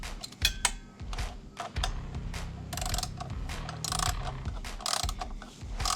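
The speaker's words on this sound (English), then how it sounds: "Support your ratchet with one hand and pull with the other, so it'll hold it." Socket ratchet clicking repeatedly while tightening the bolts of a Molecule Motorsports skid plate, with steady bursts of ratcheting close by and no talk.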